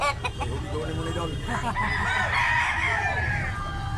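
A medium-size Blackleg rooster crows nearby, one drawn-out cock-a-doodle-doo over background clucking and low talk from people around the farm.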